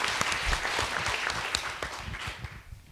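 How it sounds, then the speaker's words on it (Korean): Audience applause at a public debate on a proposed Starfield mall in Changwon, with steady, dense clapping from a seated crowd lasting throughout and thinning slightly toward the end. "격려하는 의미에서 박수 한번 크게 보내드릴까요?"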